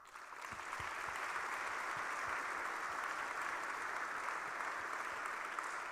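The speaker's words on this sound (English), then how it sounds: "So I'd like to give a warm applause to Andres Bergens" An audience applauds steadily at Carmel, Indiana's 2025 State of the City address, a dense, even wash of clapping that swells in within the first second and holds for several seconds with no talking.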